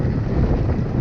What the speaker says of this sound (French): il fait beau, mais il y a la bise.